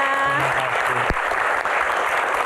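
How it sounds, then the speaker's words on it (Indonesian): Loud applause from a crowd, with a brief trailing voice at the start and continuous clapping throughout. "tepuk tangan buat kita semuanya."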